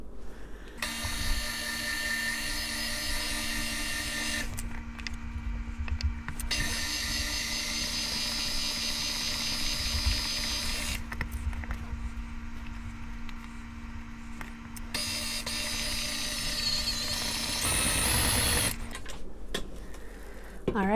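An electric stand mixer whirs steadily as it works pastry flour into cookie dough. It drops out twice in brief pauses, and the motor runs on under faint talk.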